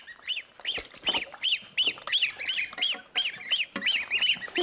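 Young geese and goslings give repeated high honking peeps and chirps in a busy, overlapping stream, close and fairly loud, with no talk over them.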